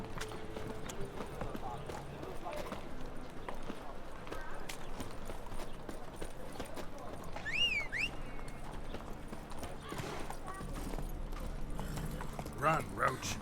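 Hoofbeats of Roach, Geralt's horse in The Witcher video game, clop along steadily at a run beneath game music and voiced dialogue, with a brief whinny-like call midway.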